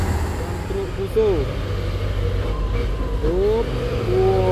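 A Fuso truck strains uphill on a steep road, its engine revving with rising, whining pitch sweeps over a steady low drone, while people talk nearby.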